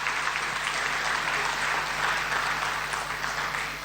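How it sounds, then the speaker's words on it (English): Sustained applause for a poet at a tribute event for flood victims, a loud, continuous wall of clapping from a crowd with a faint steady hum beneath it. "Please, I think she deserves another round of applause."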